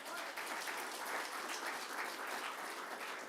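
Church congregation clapping together in steady, dense applause, loud and even throughout with no pauses.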